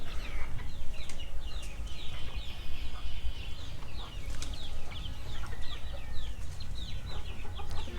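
Chickens and pigeons cluck and coo steadily while feeding together in a busy village farmyard, with many overlapping bird calls and chirps continuing throughout against a constant background hum.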